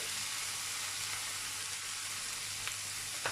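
Green chili and ginger-garlic paste fry in hot oil in a pan, giving a dense, steady hiss and sizzle with no pauses and no voices.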